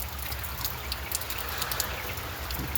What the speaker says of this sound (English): It is downpouring out here.